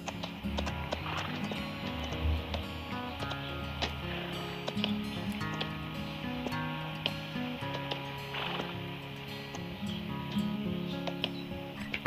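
Horse hooves in Farming Simulator 20 clip-clop at an even pace over a soft rustling background, moderately loud and steady, with no voices.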